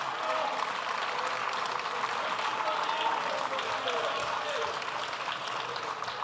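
A steady wash of clapping fills the French National Assembly chamber, dense and unbroken for several seconds, with crowd murmur and voices mixed underneath.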